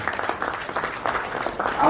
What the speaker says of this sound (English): Please can we put our hands together for Mobi Health International.